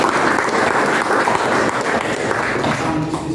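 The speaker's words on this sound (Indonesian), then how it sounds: "Tepuk tangan." A computer networking class claps together, loud continuous applause from a roomful of students that holds steady throughout.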